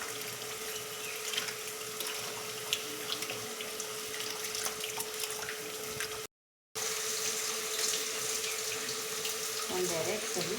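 Three cups of ordinary ration-shop rice rinsed under a running kitchen tap, with a steady hiss of flowing water splashing into the vessel throughout and a brief cut-out midway.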